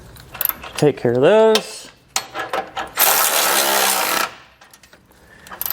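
Power tool with a 24mm socket spins out the tow hook bolts on a 2021 vehicle, a loud broadband whir lasting about a second near the middle, with short speech before it and ratcheting clicks around it.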